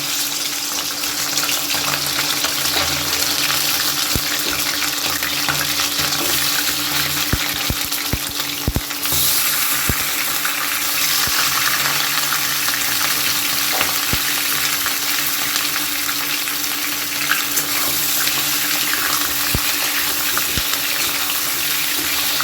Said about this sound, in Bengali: তেল গরম হয়ে গেছে এই তেলের মধ্যে এখন আমি মাংসগুলোকে একটু